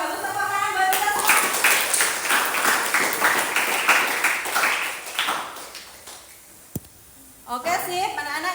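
Students in a vocational school classroom burst into enthusiastic clapping that runs for several seconds before fading, with a voice speaking just before and after the applause.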